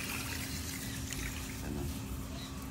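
Water is poured into a pot of rice for cooking, a soft continuous trickle and splash heard up close, faint and steady throughout.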